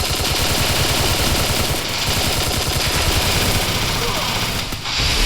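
Rapid, continuous automatic gunfire rattles loudly throughout a 2v2 room match in a mobile shooting game, with a brief dip near the end before firing resumes.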